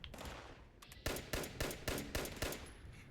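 Rapid 10mm pistol gunshots in Fallout 76, six evenly spaced sharp reports in quick succession after a couple of fainter earlier shots, with a high ringing tone near the end.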